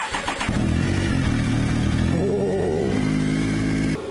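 A Triumph Tiger 955i motorcycle engine cranks briefly with a starter whir, then catches and settles into a steady, close, loud idle with a slight rev, running alone without talk.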